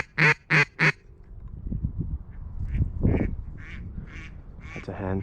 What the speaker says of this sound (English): There's a mallard, drake.